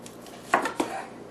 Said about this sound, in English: Cut her in some slices.